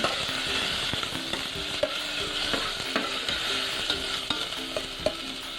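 Tomatoes with garlic and onion fry in a pan for Ilocano sinanglaw na baka, a constant close sizzle broken by repeated light scrapes and taps of a spoon as the mixture is stirred.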